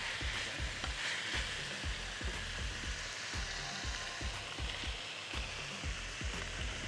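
Zucchini frying in a pan for a vegetable and artichoke gratin: close, constant sizzling with rhythmic scrapes and stirs of a utensil against the pan, no talking.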